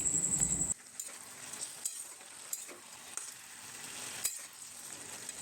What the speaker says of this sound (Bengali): 3 মিনিট মতো কষিয়ে নিতে হবে।